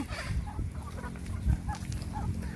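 Chickens cluck and squawk continuously in a dense, noisy flock, close by at a Thai shrine, with overlapping calls and no talking.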